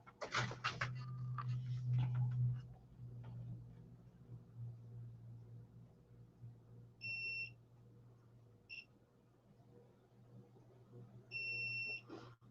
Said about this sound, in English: If you get any kind of metal, it beeps.